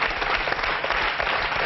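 Studio audience applause on a French television talk show, heard as a thick, continuous burst of clapping at close range, loud and unbroken for under two seconds.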